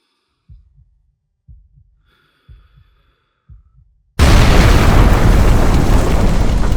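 Four soft low thumps are followed by a sudden, massive blast as the WW2 ammunition ship SS John Burke explodes, erupting into a loud, sustained roar of broadband noise.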